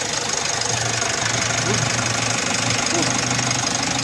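A Mitsubishi L300 Euro4 van's diesel engine idles steadily with a knocking rumble, loud and constant throughout, while people talk over it.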